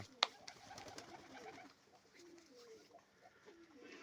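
Pigeons cooing in a pigeon loft, soft low coos repeating quietly in the background, with a sharp click near the start and a quiet voice nearby.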